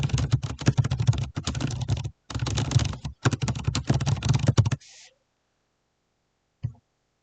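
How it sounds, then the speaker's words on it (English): Rapid typing on a computer keyboard in four bursts of close, clattering keystrokes with short pauses, then quiet apart from one soft click near the end. "what you can do is type a message"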